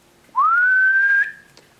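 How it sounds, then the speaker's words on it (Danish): A person gives a single clear, rising whistle lasting about a second during the Danish card game Brus, in an otherwise quiet room. "Har man en fløjtestreg, så fløjter man."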